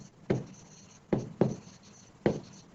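Chalk or marker strokes on a board during a Class 10 Hindi lesson, four short scratchy bursts at an uneven pace, near and fairly clear with no talking.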